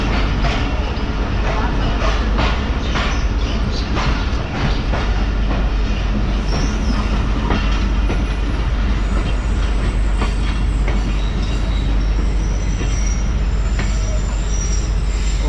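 Mohen Jo Daro passenger train in Sindh rolling along after a stop, with loud, continuous rumble, steady wheel noise and squealing from the rails, close and unbroken throughout.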